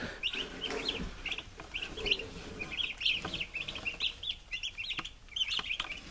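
Young turkeys and chickens cheeping in rapid, high, overlapping bursts as one bird is caught by hand, close and continuous with occasional rustling and handling noises.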